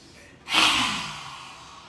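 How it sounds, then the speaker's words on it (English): A single deep inhale during a qi gong breathing exercise, drawn sharply through the nose and mouth, close and clear, swelling quickly and then tapering off slowly over about a second in a quiet room. "Breathe in."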